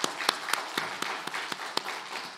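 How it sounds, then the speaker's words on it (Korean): Scattered, fairly quiet claps from a church congregation at a Sunday worship service, roughly a dozen distinct hand claps spread unevenly over a couple of seconds rather than a full, dense ovation. "다시 한번 우리 박수 한번 하겠습니다"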